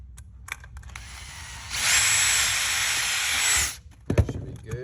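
A power drill bores a mounting hole for a woven wood shade in one continuous whirring burst of about two seconds, close and loud, framed by handling clatter before and after.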